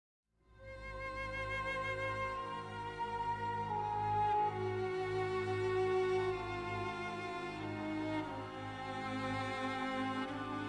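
Sustained orchestral strings hold long, soft notes, swelling gently into a wide, spacious wash of sound with no voices.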